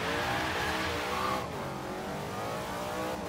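The Hot Wheels Bone Shaker's 5.7 liter open-wheel engine in Forza Horizon 3 roars loudly and continuously, holding a thick, aggressive growl with a slight shift in pitch partway through.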